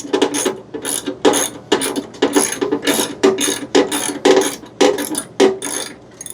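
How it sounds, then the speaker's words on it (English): Ratchet wrench loosening bolts during an RAS teardown, a quick run of sharp metallic clicking bursts in a steady back-and-forth rhythm, close and loud with no talking. "I think I just saw another set of bolts that need to come off."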